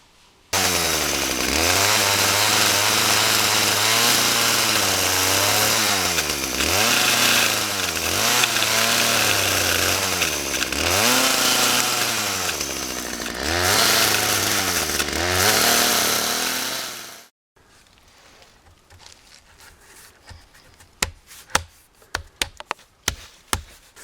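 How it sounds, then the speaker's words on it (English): A chainsaw cuts through wood, its engine rising and falling in repeated revving surges for about seventeen seconds before cutting off abruptly, followed by quiet scattered taps and knocks of handling. "then I'll use my chainsaw, and we'll just clean it off and make a nice looking cut"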